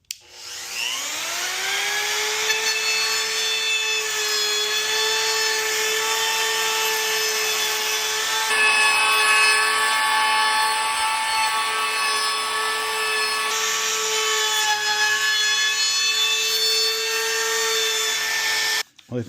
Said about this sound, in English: we've got this little rounding over bit here. And again, we're just going to let this bearing ride on the edge here